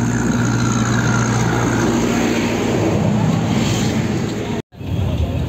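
A Swaraj 855 tractor engine runs steadily close by with a loud continuous drone, broken by a brief cut near the end before resuming.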